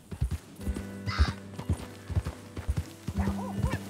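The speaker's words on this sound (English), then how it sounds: "Nice wild horse." Wild horses in Red Dead Redemption 2 give rhythmic clip-clop hoofbeats throughout, with a short whinny near the middle and another neigh toward the end, fairly close and clear over light game ambience.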